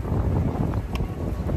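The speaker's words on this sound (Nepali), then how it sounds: "के साह्रो हावा चलेको।" Strong wind blows in front of Fukuoka Tower in Hakata, Japan, buffeting the microphone with a loud, continuous low roar that has no break.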